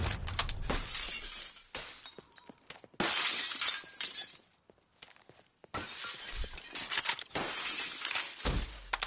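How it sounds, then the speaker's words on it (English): Glass shatters over and over during a Black Ops 3 multiplayer match, bursts of crashing, tinkling breakage broken up by short gaps. The sound is moderately quiet overall, with no talk. "All this glass down here breaking."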